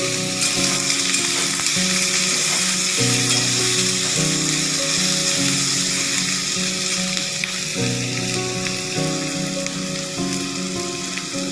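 Asafoetida and potatoes fry in hot oil for an aloo tarkari, giving a steady, close, loud sizzle throughout with occasional stirring, while faint music plays underneath.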